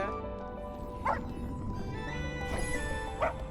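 Cartoonish dog barks and yips from the Hurdles video game trailer, a few short bursts near 1, 2.5 and 3.2 seconds over a busy, constant music bed.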